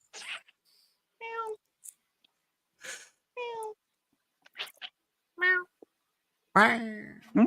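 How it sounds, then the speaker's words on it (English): A cat gives a series of separate, clear meows, about six spaced calls with silence between them. The last is louder and more drawn out. The calls are close and no one speaks over them. "It's a good cat."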